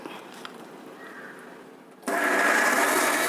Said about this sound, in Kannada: ಅದನ್ನು ಇವಾಗ ಮಿಕ್ಸಿ ಜಾರ್ಗೆ ಹಾಕ್ಕೊಂಡು ನುಣ್ಣಗೆ ಗ್ರೈಂಡ್ ಮಾಡ್ಕೋಬೇಕು